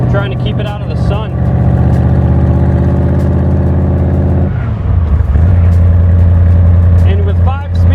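A 1965 Superformance Cobra's engine rumbles loud and close through side pipes while driving, a deep steady drone with a brief dip and gear change midway before settling back into a low cruise.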